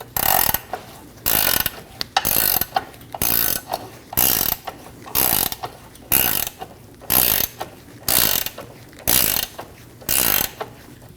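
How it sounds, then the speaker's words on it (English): A ratchet wrench cranks in steady bursts on the front lower control arm bolt of a Volkswagen Passat, about a dozen loud rhythmic clicking runs with short pauses between. "Using an 18mm wrench, we're going to loosen the front control arm bolt."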